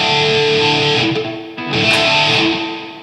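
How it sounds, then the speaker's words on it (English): Electric guitar chords ring with a short, roomy reverb tail from a Boss ME-70 pedal's room reverb, strummed twice with a brief gap between. "This is like a room reverb being inside of a room."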